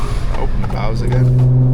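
A 100K-mile Audi's exhaust, with the valves open, rises into a rev and then settles into a steady, loud, droning tone, close by, with someone talking briefly at the start.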